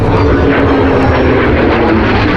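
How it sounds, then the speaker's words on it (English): A restored ex-military piston propeller aircraft roars steadily in flight, a loud, dense, constant engine drone heard up close from start to finish. "flying this aircraft, which was in the war and in the military operations"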